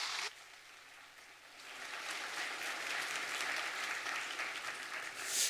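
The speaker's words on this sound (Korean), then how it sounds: "박수하겠습니다." A church congregation applauds during a Sunday worship service, right after a closing prayer of blessing. After a brief quiet start, the clapping rises into broad, sustained applause from the whole room.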